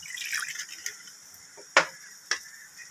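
Water splashes and drips into a metal pressure cooker in a few short bursts, close by, against a faint background hiss.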